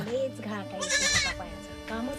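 A few goats bleat nearby in rural India, their wavering, nasal calls rising and falling close to the listener, mixed with a voice.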